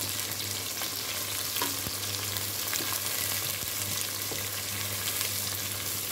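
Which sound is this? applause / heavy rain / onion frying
onion frying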